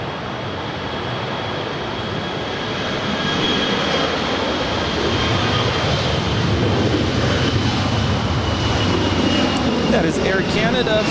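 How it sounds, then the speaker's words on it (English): An Air Canada Airbus A220-300 jet taxis for departure at LAX, a loud, steady broadband engine roar that swells after a few seconds and holds for the rest of the clip. "That is Air Canada Flight 778 taxiing over for departure to Montreal. It's Airbus A220-300."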